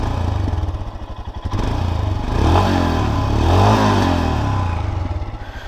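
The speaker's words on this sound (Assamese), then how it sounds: "let's start the bike now so apnaloke bike khonor exhaust note khuni lok" Royal Enfield Scram 411 motorcycle idling just after starting, a steady low thumping exhaust note close to the microphone, rising in a few throttle blips before settling back, with no talk over it.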